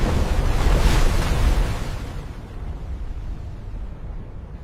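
A roaring stormy sea surges loudly at first, then eases into a lower, steadier rumble of churning water and wind-like noise.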